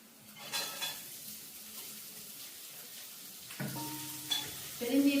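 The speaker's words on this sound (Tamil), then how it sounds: "உள்ளி வதங்கிட்டது நாங்கள் வெங்காயத்தையும் போடுவோம்" Garlic and onion fry in hot oil in a home kitchen, a soft steady sizzle with occasional stirring clinks and pan knocks, growing busier near the end as more goes into the pan.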